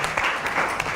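Brief burst of applause, a short patter of clapping at moderate level that ends quickly.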